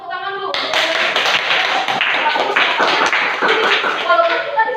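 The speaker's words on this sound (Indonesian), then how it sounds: "Iya, kasih tepuk tangan dulu." A classroom of young students claps together in a dense, steady burst of applause that lasts several seconds, with children's voices mixed in.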